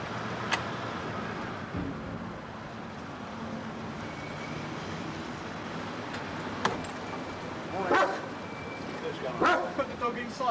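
A dog gives a few short, sharp barks and yips at a house door during a tense encounter with uniformed officers, set against a low steady background hum.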